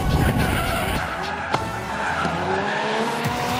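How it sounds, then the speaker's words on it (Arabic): Drifting car at a Red Bull car park drift show in Qatar, with tires squealing and skidding loudly over a revving engine whose pitch rises and falls, heard close and continuous. "الدريفتنج هو بالتحديد كله له علاقة بالتحكم بالسيارة، كيف السيارة بتروح بالعرض"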